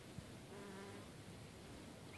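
Quiet, steady buzzing of honeybees working deadnettle flowers nearby, a continuous drone with no voices.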